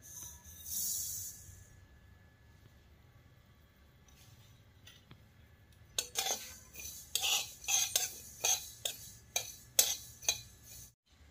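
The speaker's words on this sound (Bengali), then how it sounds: "এখন সর্ষেটা শুকনো খোলায় ভেজে নেব।" Mustard seeds dry-roasting in a hot pan for a drumstick pickle, heard as a burst of sharp clinks and scraping stirs in the second half, fairly close, after a quieter stretch of faint rattling.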